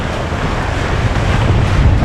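Strong wind roars across the microphone at sea between Gibraltar and Madeira on an Atlantic crossing, a loud, continuous rumbling buffet with the wash of waves underneath.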